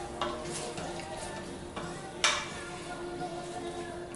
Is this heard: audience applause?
no